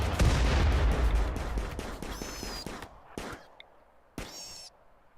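Grenades explode in RimWorld in a dense cluster of sharp blasts and crackling bursts that thin out into separate pops, with a few bird-like chirps at the end.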